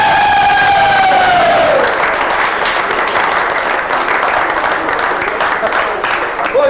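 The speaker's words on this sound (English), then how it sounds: "Give him a round of applause." An audience at a military company show in summer 2001 bursts into applause and cheering for a singer, loud and sustained, while a fading tone trails off at the start.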